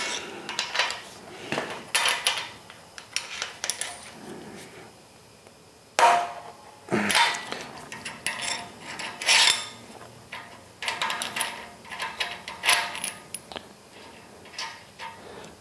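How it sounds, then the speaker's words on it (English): A 16mm socket and wrench work studs loose on a Yardmax YS0552 log splitter under repair, giving scattered metallic clicks, clinks and taps with a few sharper knocks, fairly close and irregular. "We're gonna go and remove these studs."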